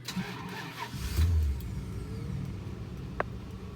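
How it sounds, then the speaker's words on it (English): A 1998 Bentley Turbo RT Mulliner engine cranks and catches with a brief rev, then settles into a steady, even idle, close by. "you got a nice, smooth idle. Very balanced. Steady RPMs."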